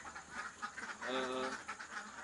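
Laying ducks on a duck farm in Handil Belimau, Kelurahan Bereng, give a short burst of nasal quacking in the middle, rising over a steady background of farm noise.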